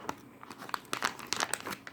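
A plastic feed bag is folded and crinkled up close, giving a quick series of crisp crackles and rustles over a couple of seconds.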